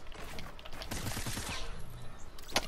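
Rapid automatic gunfire in the Fortnite battle royale video game, a dense fusillade of overlapping shots with in-game effects, loud and continuous through the clip with a sharp burst near the end.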